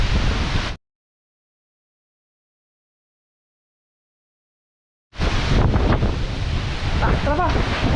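Strong gusting wind buffets the microphone outdoors beside a camper van, a loud rumbling roar that cuts out abruptly into several seconds of silence, then returns just as heavy and continuous, with a faint voice underneath.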